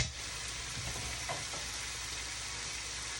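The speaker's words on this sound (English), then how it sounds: "Let it just simmer." Steady soft sizzle of food simmering in a pan while cooking a Chipotle-style meal, a continuous quiet frying hiss with no talking.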